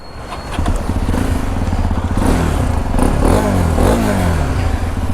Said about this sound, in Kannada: ಸೌಂಡ್ ಮಾತ್ರ ಅಲ್ಟಿ. ಎಕ್ಸ್ಪಲ್ಸ್ 210 ಟೆಸ್ಟ್ ರೈಡಿಂಗ್ ಬಂದಿದ್ದೀನಿ ಇವತ್ತು.